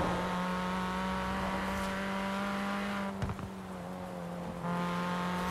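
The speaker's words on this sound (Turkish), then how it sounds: "Çok rahatsız etmesin istiyorum motor sesi." A car engine hums at a steady high rev in a street-driving game, a constant droning tone with a brief burst of tire or traffic noise midway.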